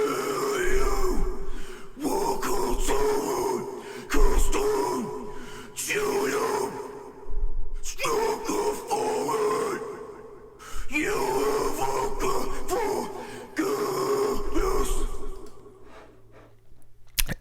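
Low, guttural growled vocals from a doom metal band's track, first dry and then thickened by a doubler effect, come in loud, rasping phrases separated by short breaths and pauses.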